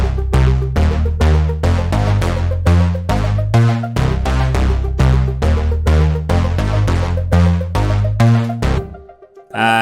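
Catchy Kwaito bass line played in music software: a loud, deep, repeating synth bass pattern with punchy, evenly spaced notes throughout, alone and without talk, cutting off near the end.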